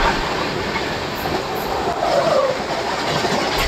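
The Samta Express passes Donkinavalasa station at 120 km/h, a loud, continuous rushing roar of rolling wheels and wind, steady and close with no speech.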